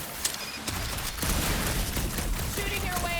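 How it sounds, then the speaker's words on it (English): Rapid gunfire bursts from Peter shooting in the Guardians of the Galaxy video game, a dense continuous barrage layered with game effects and soundtrack. "Shooting your way out of every problem again, Peter?"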